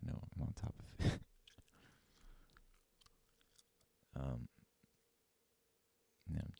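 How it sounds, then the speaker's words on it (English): Someone chews right against a microphone, producing wet, clicky bursts of mastication in irregular clumps separated by quiet gaps, loud and intimate. "Yeah, I'm chewing."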